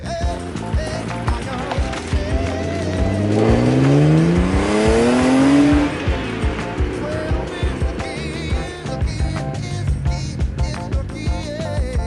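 BMW E36 M3 with a UUC Corsa exhaust revs up in a rising sweep, engine note climbing steadily for a couple of seconds before dropping back, set against a steady background of idling and ambient noise.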